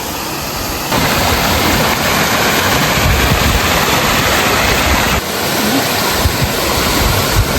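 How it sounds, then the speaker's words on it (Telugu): A hidden waterfall near Paderu in Andhra Pradesh roars as a steady, loud broadband rush of falling water, with rough bumps of microphone wind noise across the recording. "ఇదిగోండి ఇదండి వాటర్ ఫాల్స్"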